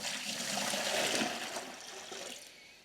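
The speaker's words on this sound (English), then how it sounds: "So you also want to make sure you empty out the water that was in it." Water pouring out of a whole house filter housing as it is emptied, a steady close splashing gush that fades slightly toward the end.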